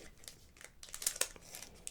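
A Pokémon Scarlet and Violet booster pack's foil wrapper is torn open by hand, with close, crisp crinkling and several sharp tearing rips in quick succession.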